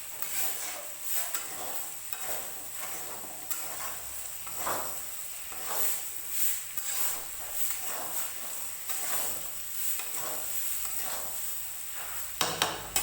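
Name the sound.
stirring tomatoes and salt in a pan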